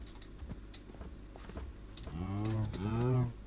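Minecraft cows lowing close by, two drawn-out moos in quick succession near the end, over faint keyboard tapping and earlier clicks.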